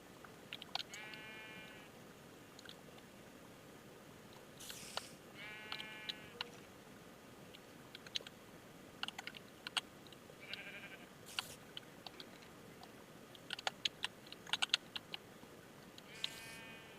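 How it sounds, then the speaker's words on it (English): Sheep in the Minecraft modpack Project Ozone 3 bleat repeatedly, several short wavering calls spread across the clip over a quiet game ambience with scattered soft clicks and taps. "because that's sheep."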